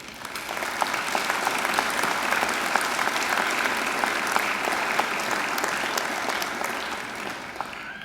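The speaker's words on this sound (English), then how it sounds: "I'm sure you'd like to give them a great round of applause too" Steady, sustained applause from a large university graduation ceremony crowd, dense clapping filling the whole stretch at an even level with no talking.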